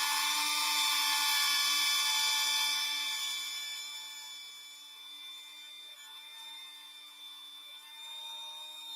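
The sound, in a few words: rotary tool polishing a metal lock pin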